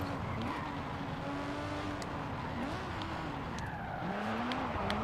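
A turbocharged car engine drones and revs in a racing video game, with turbo lag and bogging around 4,000 RPM. The engine tone wavers and climbs under a constant roar of road and tire noise.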